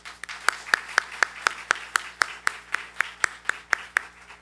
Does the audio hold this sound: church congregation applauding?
yes